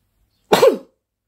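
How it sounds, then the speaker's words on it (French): A single short explosive burst from one person indoors, close and loud, about a third of a second long with a throaty voiced tail, over an otherwise silent room; it could be a sneeze or a cough. "Attention, je vais éternuer."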